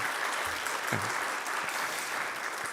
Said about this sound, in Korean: 열심히 박수 한 번만 쳐주시기 바라겠습니다